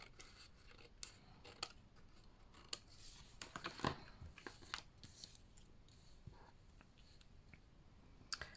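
Scissors trimming small paper craft pieces give faint, close snips and crisp little cuts scattered irregularly over a quiet room background.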